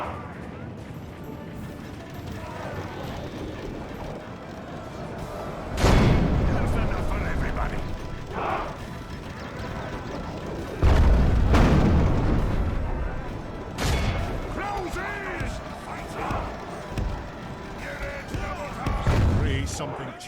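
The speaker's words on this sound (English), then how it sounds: "Keep firing the grape shot." Cannons loaded with grape shot firing in a Middle-earth battle, three or four heavy booms spaced several seconds apart, each with a rumbling tail, over a backdrop of battle noise and occasional voices.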